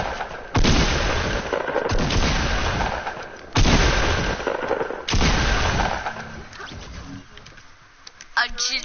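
Video game gunfire rings out as three heavy, booming gun blasts, each with a long rumbling decay, loud and close, followed by quieter clatter and a sharp noise at the end, with voices faintly underneath.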